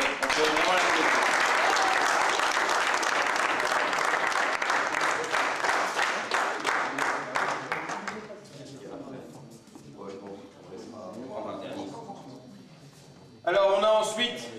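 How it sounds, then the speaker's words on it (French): Indoor audience at a table tennis club's internal singles tournament breaks into sustained applause for about eight seconds, then it fades into scattered clapping and someone speaking, with a brief applause burst near the end. "Mais on peut vraiment l'applaudir."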